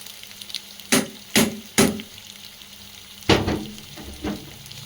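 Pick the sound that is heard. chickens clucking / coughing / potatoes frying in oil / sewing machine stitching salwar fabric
potatoes frying in oil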